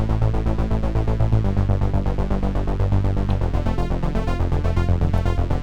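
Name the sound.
pulsing synth bass from 'Set Me Free' preset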